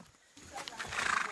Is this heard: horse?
yes